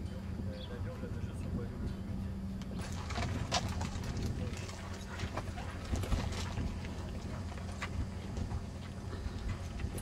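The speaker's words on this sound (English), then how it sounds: "going on a horse ride across the trail" Horse hooves clip-clop along a trail on a pony trekking ride, uneven repeated knocks at mid distance with people talking underneath.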